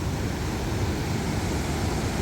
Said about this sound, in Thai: อันนี้คือน้ำตก